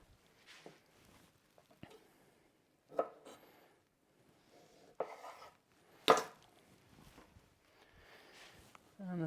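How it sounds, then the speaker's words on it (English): A knife cutting vegetables in half on a board, a few distinct close chops spaced apart, with faint speech heard quietly in the background. "So I'm just going to cut them in half."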